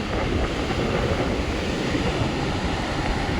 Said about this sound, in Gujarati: આ છે શિવરાજપુર બીચના મોજા.